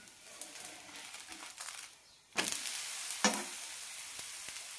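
A ragi and sweet potato dosa fries in oil on a pan, giving a soft sizzle that grows louder after a fresh splash of oil, with a few scraping turns of a spatula, close and quiet, no talking.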